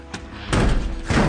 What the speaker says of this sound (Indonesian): Namun suara ketika menutup pintu terdengar oleh zombie.